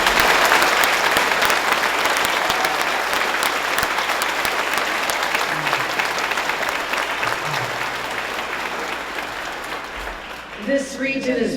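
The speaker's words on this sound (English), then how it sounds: "let's get another round of applause to Steve Butler" Sustained applause from a large crowd at a museum completion event for an honoree, a steady even wash of clapping that carries on for the whole stretch before fading slightly at the end.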